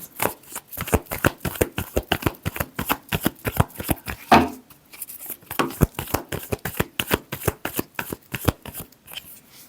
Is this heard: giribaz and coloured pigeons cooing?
no